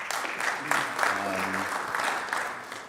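A conference session audience applauds as a speaker is welcomed to the stage, moderate clapping with a voice talking over part of it.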